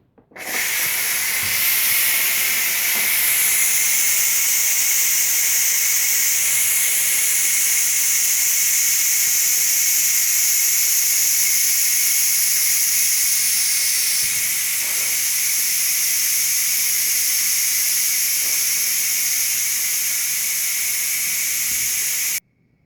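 A Ninja Foodi pressure cooker vents steam through its release valve in a loud, steady hiss that runs almost unbroken for over twenty seconds before stopping abruptly.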